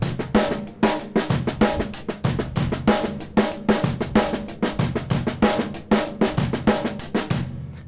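A drum kit plays a fast groove, with dense rhythmic hits and regular accented snare strokes keeping a steady pulse throughout, loud and close with no talking.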